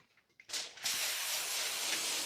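Cooking spray hisses from an aerosol can onto foil, with a short burst followed by a longer continuous close spray, after a few faint handling taps.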